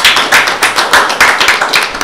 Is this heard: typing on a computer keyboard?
no